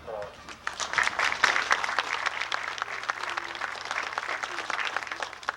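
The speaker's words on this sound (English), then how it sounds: "They deserve a round of applause." An audience at a library dedication ceremony bursts into applause, a sustained round of many hands clapping that swells after a brief start and carries on steadily, with some voices mixed in.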